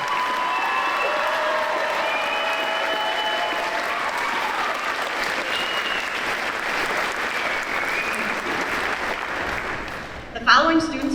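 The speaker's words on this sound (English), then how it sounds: "Please give them a round of applause." Steady applause from a large audience at a high school graduation ceremony, dense clapping sustained at an even level for about ten seconds before tapering off, with a brief louder bump near the end.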